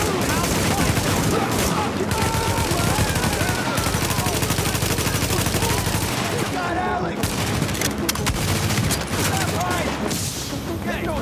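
Sustained automatic gunfire in Tom Clancy's The Division during a hard-difficulty precinct siege, loud rapid bursts overlapping almost continuously, with a voice talking over the shooting.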